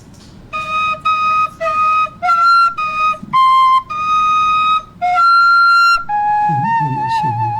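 A khlui, the Thai bamboo flute, in a red wood version, plays a series of clear, breathy sustained notes in short separated phrases, close and loud, with a low hum beneath and no talking.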